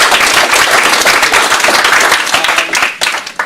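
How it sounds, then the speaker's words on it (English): An audience at an industry week event gives a loud, dense round of applause, close and sustained, tapering slightly near the end. "So another big round of applause."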